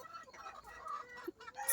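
Hens on a chicken farm cluck and murmur in a busy, overlapping chorus at close range, with a brief sharper squawk near the end.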